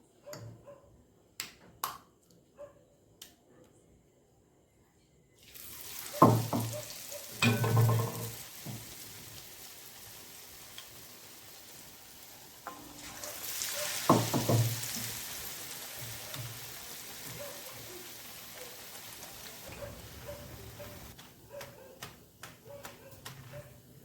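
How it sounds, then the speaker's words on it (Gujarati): Khambhat-style khakhariya bhajiya, fritters made from arvi leaves, fry slowly in oil on a low gas flame. A soft, steady sizzle rises and fades over about fifteen seconds, with scattered clicks and taps before and after. "આવી રીતે આપણે બધા ભજીયા તળી લઈશું"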